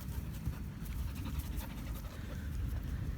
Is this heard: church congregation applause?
no